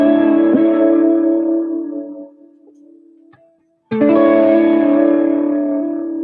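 An electric guitar runs through a 100% wet vibrato effect on an HX Stomp, giving sustained, wavering chords that ring out, fade to near silence, then return with a fresh strum. There is no talking.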